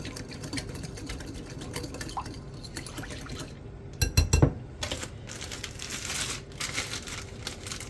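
Jell-O powder and milk being mixed by hand for strawberry cake icing, with irregular wet stirring, sloshing and crinkly scraping throughout and a louder burst of churning midway.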